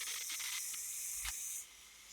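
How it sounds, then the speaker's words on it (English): Brussels sprouts and bacon sautéing in a pan on medium-high heat, a loud steady sizzle and hiss up close that drops off abruptly near the end, with no voices. "we're going to saute this until the Brussels sprouts are tender"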